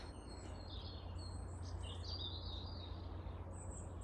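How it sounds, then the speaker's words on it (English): Several birds chirp and sing continuously outside a church in Chipping Norton, with bright overlapping calls at moderate distance over a steady low background rumble. "Such a beautiful sound the birds are."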